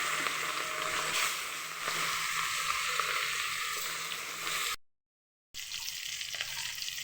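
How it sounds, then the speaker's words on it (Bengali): Fish sizzles and crackles steadily in hot oil in a pan, a dense, continuous frying hiss that cuts out briefly before resuming. "এই যে আমার তেলটা গরম হয়ে গেছে, এখন মাছ দেব। মাছগুলো একটা সুন্দর করে লাল করে ভেজে নেব।"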